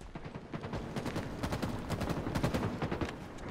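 Rapid bursts of automatic gunfire in a Halo match, dense repeated shots rattling steadily throughout, close and loud with no voices.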